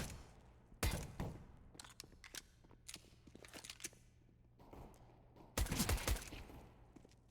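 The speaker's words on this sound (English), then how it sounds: "Shots coming out." Gunfire in a Counter-Strike match on the Mirage map, an ESEA MDL Europe game, with scattered single shots and two dense bursts of rapid fire, loud and close, footstep-like thumps between them, no talk.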